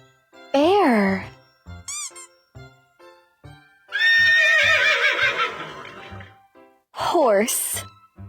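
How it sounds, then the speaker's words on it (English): A horse neighs in several shrill, wavering whinnies, one near the start and another near the end, with short spoken bits between them and a long noisy stretch in the middle. "H-O-R-S-E, horse."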